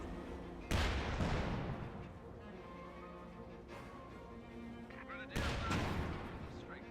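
An artillery barrage rumbles in a Company of Heroes 2 battle, with two heavy booming impacts several seconds apart over a continuous low rumble of distant fire and battlefield noise.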